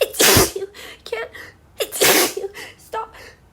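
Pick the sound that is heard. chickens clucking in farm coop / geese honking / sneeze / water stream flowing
sneeze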